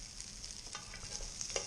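Potatoes fry in grease in a small skillet, a soft steady sizzle with faint stirring scrapes, quiet and close, no voices.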